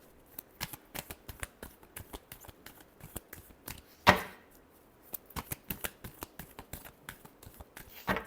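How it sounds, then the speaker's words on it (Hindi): Tarot cards are shuffled by hand in a rapid series of crisp, close riffling taps and slaps, uneven in rhythm, with one sharper loud snap in the middle. No voice is heard. "last shuffle"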